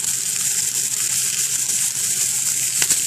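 Rib eye steak searing on a grill, giving a steady, loud, close hiss and sizzle that stays even throughout, with one brief flare of crackle near the end.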